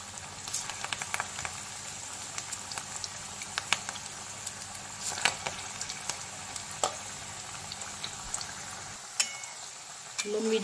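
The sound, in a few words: chicken pakora deep frying in oil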